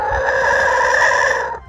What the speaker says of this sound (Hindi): यहाँ पे मेरे बैकग्राउंड में मुर्गा इतनी देर से बांग मारे जा रहा है